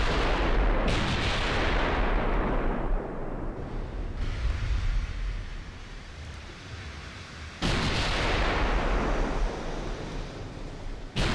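Battleship guns fire at a destroyer in a naval video game. Two huge booming salvos, several seconds apart, each roll into a long rumbling decay, loud and close, with no voices.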